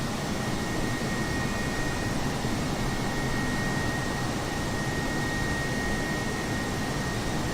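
Cockpit of an airliner cruising in a flight simulator game, a steady, even jet-engine roar with a faint high whine held throughout, constant and without talk.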